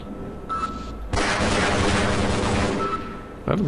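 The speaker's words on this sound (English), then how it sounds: "Is that a shotgun? Or is that a machine gun?" Gunfire in the Half-Life video game comes as a loud burst of rapid shots, preceded by a brief sound and followed by another blast near the end, with no talk.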